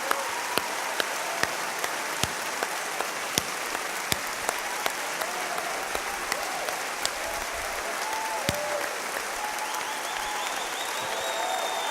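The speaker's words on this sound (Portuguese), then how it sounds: "o maior forte aplauso que você puder a Deus" A church congregation at a Brazilian service gives God a long, loud round of applause. Steady massed clapping carries on for twelve seconds, with a few sharper individual claps standing out near the front.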